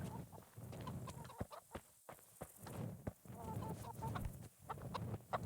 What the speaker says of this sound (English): This is a hen house.